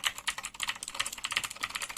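Fast, steady typing on a Razer BlackWidow V3 mechanical gaming keyboard, with dense, crisp key clacks in a continuous run, close and clear with no voices.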